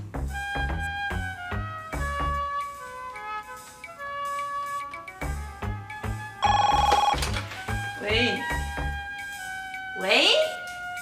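A telephone bell rings in a rapid repeating pattern of bright metallic trills, loud and close, with a voice briefly breaking in toward the end.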